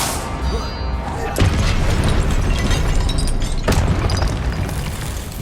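A Confringo fire spell blast in Hogwarts Legacy, booming explosive impacts at about 1.4 and 3.7 seconds over a loud, continuous game soundscape.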